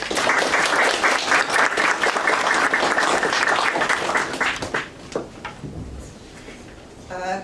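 An audience applauds to welcome speaker Grace Davie at a lecture: steady, close clapping for about five seconds that thins out and fades, ending in light rustling.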